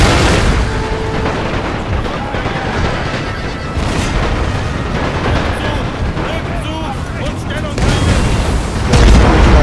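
Artillery shells explode in the war video game Battle for Stuttgart. Heavy, continuous rumbling booms and blasts fill the mix at close, loud levels throughout.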